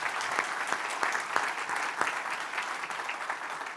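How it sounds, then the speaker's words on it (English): An audience at an annual awards meeting and leadership academy graduation claps steadily, a dense, even applause that holds at moderate loudness throughout. "we can do the applause in sections"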